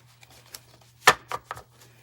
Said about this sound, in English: Let's shuffle the cards.